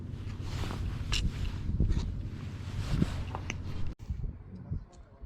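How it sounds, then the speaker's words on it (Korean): Gusty sea wind rumbles and buffets steadily on the shore during squid fishing, with occasional knocks and rustles, briefly cutting out near the end. "바람 소리만 그냥 하고 있고요"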